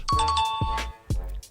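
Soundboard correct-answer chime effect, three bright bell-like dings in quick succession, each starting with a low thud and ringing briefly, loud and close with no speech.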